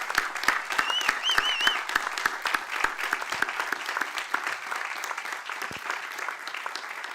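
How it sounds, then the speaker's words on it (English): Audience applause for the graduating class of 2024 at a high school graduation ceremony, steady dense clapping from a large crowd with sharp individual claps standing out and a few whistles rising above it. "give another heartfelt round of applause for the class of 2024"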